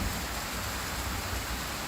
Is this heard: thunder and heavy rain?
yes